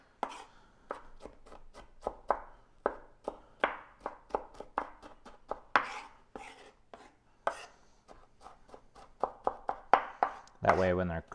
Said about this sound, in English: sometimes I like to put green onion in things just to get a little extra flavor, but I am going to mince these really well